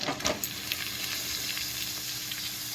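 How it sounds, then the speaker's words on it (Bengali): Potatoes fry with spices in a pan, giving a steady close sizzling hiss with a few brief utensil clinks near the start and a sharp knock at the very end. "আলুটা দিয়ে এবার ভাজা ভাজা করে নেবো"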